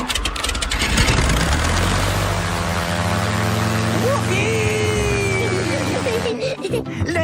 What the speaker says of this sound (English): Wow. The toy aeroplane is doing a loop-the-loop.